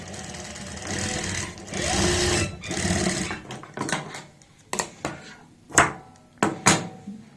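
A sewing machine runs steadily for a few seconds while stitching a size-36 kameez, then slows into a series of separate close clicks and short bursts of stitching.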